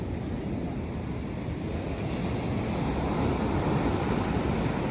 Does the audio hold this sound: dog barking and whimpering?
no